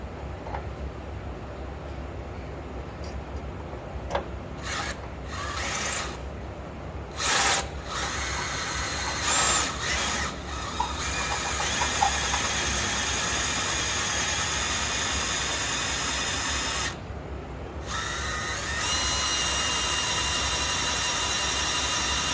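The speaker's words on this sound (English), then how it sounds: "We're about to drill through this entire screw" A power drill bores out a screw on a 1954 Ford F100, whining in long steady runs broken by brief stops and restarts, close and fairly loud, without talk.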